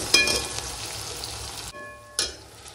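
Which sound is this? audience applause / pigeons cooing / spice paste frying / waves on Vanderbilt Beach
spice paste frying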